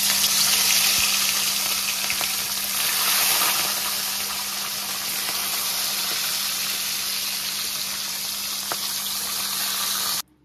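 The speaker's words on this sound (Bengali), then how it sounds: "সব পটল ভাজা হয়ে গেছে, এবার ওই তেলেই মাছগুলোকে ভেজে নেব।" Rohu fish belly pieces, rubbed with salt and turmeric, fry in hot oil left over from frying pointed gourd, giving a loud, steady, dense sizzle that runs unbroken and cuts off abruptly at the end.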